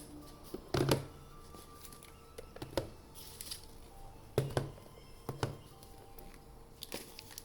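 Tarot cards are shuffled and drawn in a quiet room: a few soft papery riffles and slaps come in short separate bursts, close and fairly faint, with no voice.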